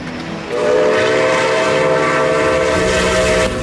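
Atchison, Topeka & Santa Fe 3751, a steam locomotive, sounds its 6-chime whistle in one loud, sustained blast with a rich layered chord that holds steady for about three seconds over rumbling background.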